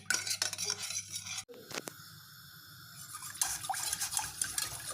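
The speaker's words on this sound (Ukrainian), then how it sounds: "Я взяла перемішувати вінчиком." Metal clinks and scrapes in a pot of boiling marmalade, rhythmic stirring with a whisk, fairly quiet, with a brief pause midway before the stirring resumes.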